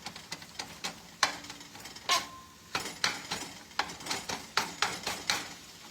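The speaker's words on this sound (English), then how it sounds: "my sausage is being cooked up with my onion and my celery" Ground sausage cooking with chopped onion and celery in a pan over medium heat, heard as repeated utensil scrapes and clinks against the pan with a light sizzle underneath, close and steady.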